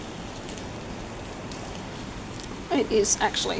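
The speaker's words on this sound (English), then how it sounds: "currently pissing down rain" Heavy rain pours down outside a balcony overlooking a tennis court, a steady, close, even hiss filling the whole stretch before a voice begins talking over it near the end.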